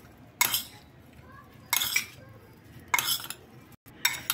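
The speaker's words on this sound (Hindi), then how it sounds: "अब देखो ऐसे इसको हिलाएंगे" Guava chaat tossed with sugar in a bowl, producing four separate bursts of scraping and clinking from a spoon against the dish, close and fairly loud with quiet gaps between them.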